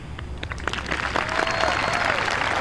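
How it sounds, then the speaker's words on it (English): A crowd at a live 2020 high school graduation ceremony bursts into applause, dense clapping that builds and holds steady for a few seconds, heard from a short distance. "Big round of applause"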